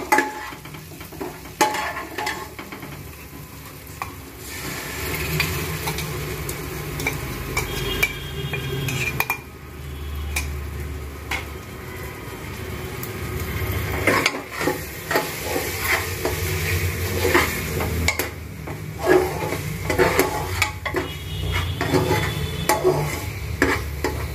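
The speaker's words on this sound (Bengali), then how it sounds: "আমার পেঁয়াজটা ভাজা হয়ে গেছে, যে পেস্টটা আমি তৈরি করলাম এবার ওইটাকে আমি দিয়ে দেবো।" Spice paste frying with browned onions for mutton curry, a loud close sizzle with frequent stirring scrapes and clanks of a spoon against the pot, continuous throughout with no talking.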